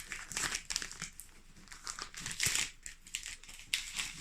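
Parchment paper crinkles and rustles as it is folded repeatedly, close and fairly quiet, with uneven bursts of crackling.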